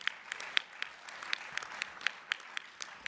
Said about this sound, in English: It's okay, you can applaud.